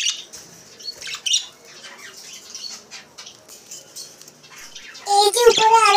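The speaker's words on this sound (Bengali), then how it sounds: "এই যে বাজুগর পাখি, এই পাখিটি আমার অনেক ভালো লাগে।" Pet budgerigars kept in pairs in a cage chirp and squawk in short bursts, rising to a loud cluster of close calls near the end, with a person talking quietly in between.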